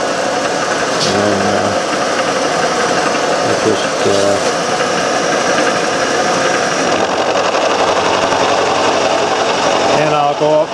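A large milling cutter takes a flat spot on a metal post held in V-blocks and a vise, grinding with a steady loud mechanical whine and rumble that continues throughout, briefly easing and shifting near the end, with a voice heard briefly.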